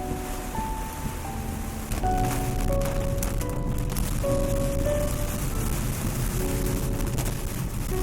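Steady rain falls as a loud, dense hiss that continues throughout, with sustained musical tones layered over it.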